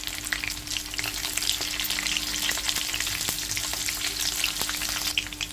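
Green chillies hiss in hot oil with cumin, a continuous crackling sizzle with scattered sharp pops, close and steady, with no talk.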